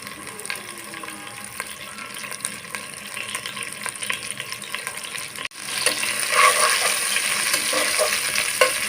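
Lentils, mung dal cooked with bitter gourd, stirred in a pan just after salt goes in, giving a steady scraping, sizzling texture that grows louder and busier partway through, with no talking.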